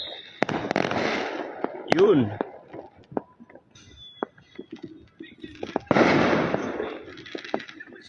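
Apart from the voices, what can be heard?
fireworks and firecrackers for Chinese New Year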